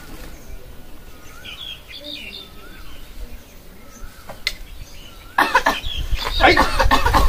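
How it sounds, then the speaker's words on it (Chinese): At a rural village checkpoint, a person lets out a loud burst of coughing near the end, after a quieter stretch of birds chirping and a chicken clucking in the background. "你怎么咳嗽啊你？"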